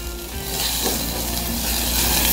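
Steady sizzling fills the air as onion sautés in a hot pan for risotto, a constant close hiss with a brief stirring scrape.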